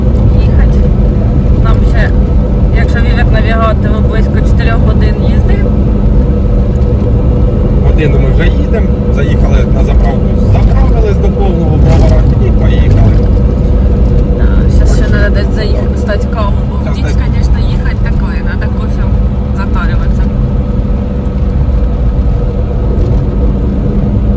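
Steady car engine and tyre rumble on a road at night, loud and close from inside the cabin, running continuously for the whole stretch while people talk over it.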